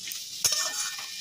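Curry of soy chunks, potato and paneer sizzles in a pan while a utensil gives one quick scraping stir over a steady close frying hiss.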